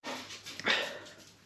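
Bonnie the dog sniffs and gives a thin whimper up close, breathy snuffling over a short stretch with a brief rise in the middle, heard alone.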